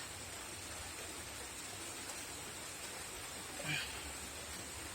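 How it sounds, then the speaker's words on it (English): Soft, even hiss of steady rain heard from inside a greenhouse, quiet and continuous, with one brief small knock near the end. "As you can hear the sound of the rain"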